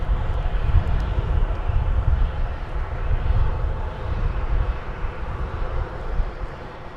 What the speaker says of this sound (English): I'd say that's probably a 20th century aircraft